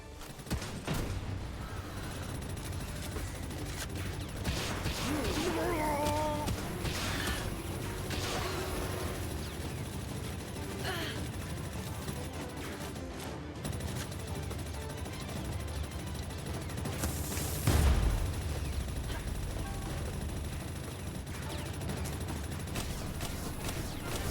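Gunners firing in Palworld, bursts of rapid gunfire and mechanical clatter layered over game music, with a louder impact near the end.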